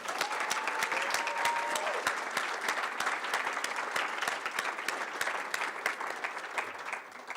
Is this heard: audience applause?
yes